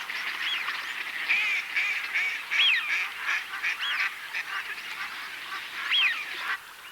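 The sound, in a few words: Hawaiian nene geese at Slimbridge wildfowl reserve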